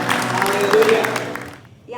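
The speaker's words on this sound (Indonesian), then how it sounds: "Beri tepuk tangan." Congregation clapping during a bilingual Sunday church service, mixed with a voice calling out praise; brief crowd applause that fades out abruptly before a short new sound.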